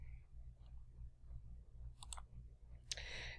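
Mouse clicks while working in design software, a couple of quick, close clicks about a second apart over a low steady hum, with no talk.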